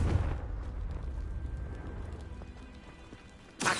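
Confringo fire explosion spell in Hogwarts Legacy: a loud burst at the start, then a rumbling, crackling decay, ending with another sharp burst.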